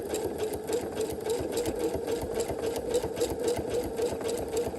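A sewing machine runs a zigzag stitch at a width of 2.5 along one edge, a steady, even, moderately quiet hum of rapid needle strokes with no pauses.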